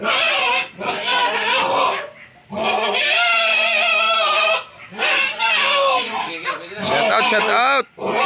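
Pigs squeal loudly and continuously at close range during a livestock pickup in Calaca City, Batangas, with shrill, wavering cries broken by short pauses.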